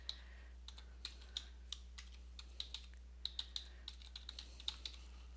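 Fingers tap out an email address on a computer keyboard, a quick irregular run of light clicking keystrokes, close but quiet over a faint low hum, with no talking.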